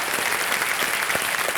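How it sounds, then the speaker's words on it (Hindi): A television quiz show studio audience claps briskly to welcome a female contestant, a dense, even wash of applause throughout. "एक बार फिर तालियों के साथ उनका स्वागत किया जाए।"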